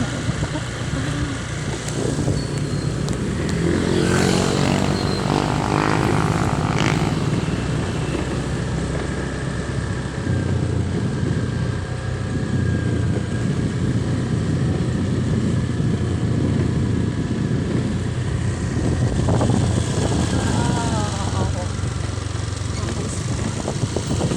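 A loud engine on a ride rumbles steadily for the whole stretch, with a continuous drone and some rising tonal sweeps. A voice talks briefly over it.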